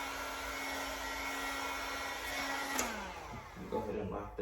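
A heat gun blows steadily while warming vinyl wrap on a Dodge Challenger rear bumper, a constant close whirring hiss that shifts pitch near the end, with a voice speaking briefly.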